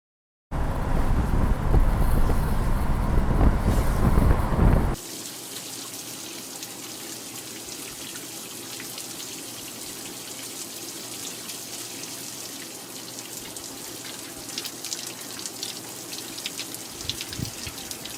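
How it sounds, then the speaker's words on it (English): Shower water running in a glamping spot in the Colombian countryside, a loud rushing spray for the first few seconds, then a softer steady hiss of falling water with occasional light drips, no voices. "This is a moment of shower meditation."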